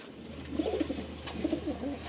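Pigeons at a pigeon farm, with soft repeated cooing in short low bursts over a quiet steady hum, fairly close and moderately faint.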